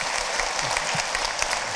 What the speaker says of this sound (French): On vous applaudit parce que c'était passionnant